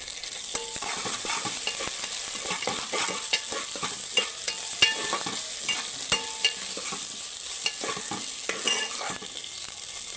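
Ginger-garlic paste frying in a pan after onions, a steady close sizzle with frequent sharp scrapes and clicks of stirring throughout.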